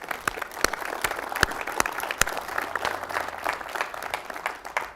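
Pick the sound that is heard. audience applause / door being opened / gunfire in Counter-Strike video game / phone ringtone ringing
audience applause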